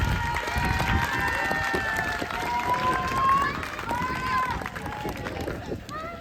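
A pageant audience in a village hall applauds Geneviève at the Miss & Mister Le Baizil 2025 event. The clapping is steady and fairly distant, with some crowd noise, and tonal sounds drift over it.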